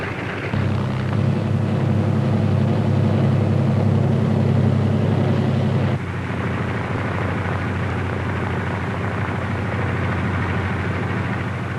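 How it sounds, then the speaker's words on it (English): C-47 transport aircraft running their engines for takeoff at the head of a runway, a steady loud piston-engine drone that holds throughout and eases slightly partway through. "other C-47s move into position for their takeoff at the head of the runway."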